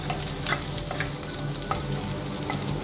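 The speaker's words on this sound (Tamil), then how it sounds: "அதே பேனில் இஞ்சி போட்டுக்கலாம். கூடவே பச்சை மிளகாய் சேர்த்து நல்லா வதக்கிக்கோங்க." Ginger and green chillies sautéing in a pan for mint chutney give a loud, dense, continuous sizzle with crisp crackles and spatula scrapes, close up and alone, with no voices.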